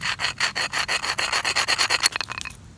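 A wet rock scraped against another rock to grind out paint, a steady rhythmic rasping of about a dozen quick, loud strokes close by that slows and stops near the end.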